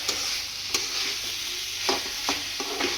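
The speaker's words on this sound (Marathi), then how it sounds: "असे जे बटाटे आपण तळून घेतलेले ते बटाटे आता ह्याच्यामध्ये आपण ऍड केले" Fried potatoes are stirred into a sizzling masala for aloo matar sabji, a steady frying hiss with a few scraping spoon strokes against the pan.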